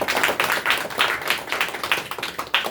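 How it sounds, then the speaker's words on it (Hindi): Rhythmic hand clapping from a church congregation at a night prayer meeting, steady and fairly loud, with no talking over it. "हम लोग ताली मारेंगे"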